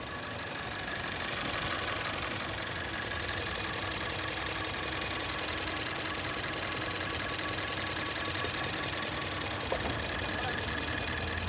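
The 3.5-liter engine of a 2010 Lincoln MKS runs steadily in a repair shop, a continuous even idle hum with no audible knock.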